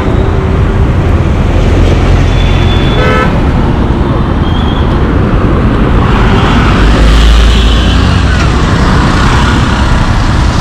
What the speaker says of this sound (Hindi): आप देख सकते हो कि कितने बहुत सारा ट्रैफिक था